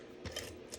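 Scissors snip through a sheet of Designer Series paper from corner to corner, a couple of quick faint crisp cuts in a quiet room with no talking.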